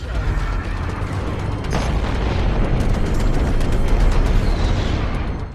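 A missile launches in the space combat game Strike Suit Zero: a loud, sustained roaring rumble with a sharp burst of energy early on, continuing steadily throughout with no talking.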